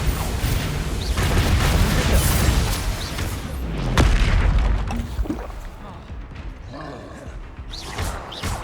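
Fiery spell blasts from Confringo and Incendio in Hogwarts Legacy boom out one after another, loud, heavy explosions with crackling debris and game effects, fading toward the end, under occasional voice.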